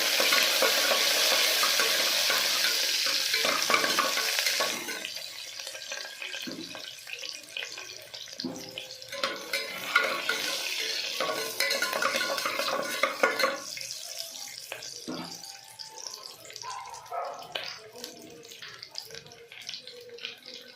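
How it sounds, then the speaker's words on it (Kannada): Finely chopped onions fry in a pan for avarekayi sambar, with a steady loud sizzle at first that thins out, broken by scraping stirs and some running water or washing sounds. "ಸಣ್ಣ ಕಟ್ ಮಾಡಿಕೊಂಡು ಆನಿಯನ್ ಹಾಕ್ಕೊತಾ ಇದ್ದೀನಿ ಮತ್ತೊಂದು ಫ್ರೈ ಮಾಡಿ"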